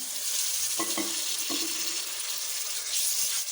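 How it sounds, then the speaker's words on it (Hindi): Chopped tomatoes added to a pan of maash daal, giving a steady, close, loud sizzle with a few soft stirring clunks. "और अब साथ ही हम इसके अंदर टमाटर ऐड करते हैं।"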